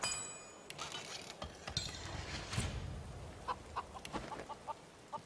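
Chickens clucking in the video game Divinity: Original Sin 2, a series of short clucks that thicken toward the end over a steady background of game ambience and faint mechanical creaks.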